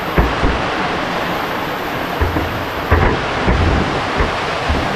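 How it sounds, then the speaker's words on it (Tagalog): Heavy rain pours steadily in a loud, continuous broadband wash, with a few low rumbling thuds and gusts mixed in and no voices. "Lakas ng ulan."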